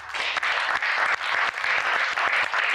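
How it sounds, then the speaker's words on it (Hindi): Loud, dense applause from a studio audience on a Hindi television talk show honouring a brave woman, steady clapping filling the whole stretch with no talk over it. "जोरदार तालियां इस बहुत ही साहसी महिला के लिए।"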